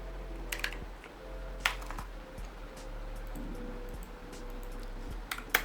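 Sparse keystrokes on a computer keyboard in a quiet room, a few scattered clicks and taps at moderate level over a steady low hum.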